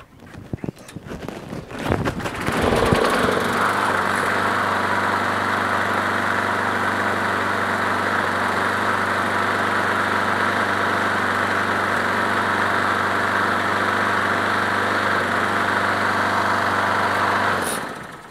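A Craftsman push lawn mower engine sputters through a few rough start-up bursts, then settles into a loud, steady running drone for about fifteen seconds before cutting off abruptly.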